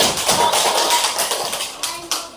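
Quick scattered clapping from a small group, dense at first and thinning out, with a few sharp taps near the end.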